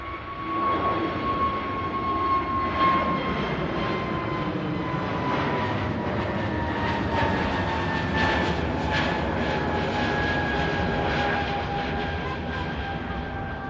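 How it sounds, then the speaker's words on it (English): A British Airways shuttle jet climbs away from Manchester Airport after an early rotation, its engine roar loud and steady for the whole stretch, with a slowly falling whine riding over the broad rumble. "Super early rotation there from the British Airways shuttle service"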